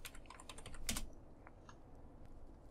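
Rapid keystrokes rattle on a computer keyboard as an answer is typed in a video game, a quick cluster of clicks up front with a sharper strike near one second, then sparse taps, quiet and close.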